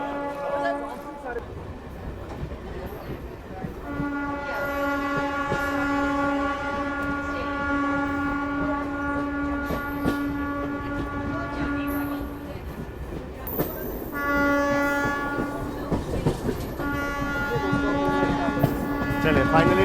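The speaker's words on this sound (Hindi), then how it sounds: "सजी हुई अपनी ट्रेन, ढोल बाजे के साथ ट्रेन को डिपार्चर दिया गया है।" A decorated modern Indian train departing on its inauguration run and joining the main line, with a loud sustained multi-tone horn held for long stretches over steady rumbling wheels and rail noise, close by, with faint voices beneath.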